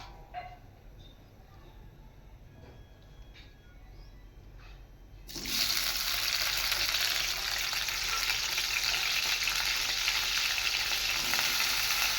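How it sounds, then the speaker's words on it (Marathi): Onion and tomato hit hot oil in a kadai halfway through, bursting into a loud, steady, close sizzle after a quieter stretch where someone speaks over faint kitchen sounds. "आपण कढईत तेल टाकून घेऊया, जो की आपल्याला कांदा आणि टोमॅटो फ्राय करून घ्यायचा आहे"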